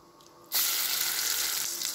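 Ground masala paste dropped into hot oil in a pot bursts into a loud, sudden sizzle after a quiet moment, then holds as a steady, crackling hiss.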